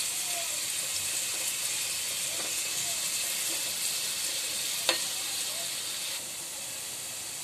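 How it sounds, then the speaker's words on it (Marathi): Onion fries in oil as the base for a Malvani crab curry, a steady moderate sizzling hiss with a single sharp clink of a utensil partway through and no talking. "आपला कांदा फ्राय झालेला आहे"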